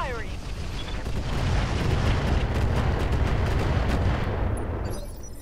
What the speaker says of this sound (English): At least this time the enemy's on the receiving end of all the indirect fire